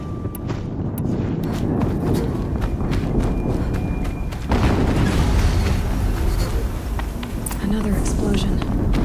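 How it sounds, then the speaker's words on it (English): Explosions in the action game Horizon Zero Dawn: a heavy boom rolls in mid-clip over constant loud game noise, footsteps and scattered pops, with a voice talking throughout. "Another explosion."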